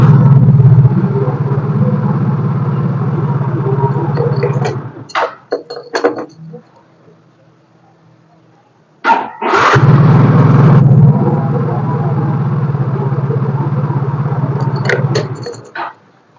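Electric starter on a Yamaha Mio J scooter cranking the engine in two long bursts of several seconds each, a loud, steady mechanical whir with a short clatter between them and a brief near-silent pause before the second attempt.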